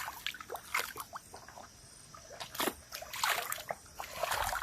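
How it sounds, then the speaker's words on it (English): Water splashes as a face is washed in a village stream in Nyabirongo: soft, irregular splashes and trickles, close and fairly quiet. "Let me wash my face right here."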